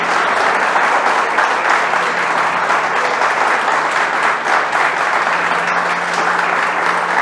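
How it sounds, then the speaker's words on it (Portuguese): A church congregation applauds in praise, a dense, loud, sustained clapping that fills the room steadily without a break. "aplauda ao Senhor"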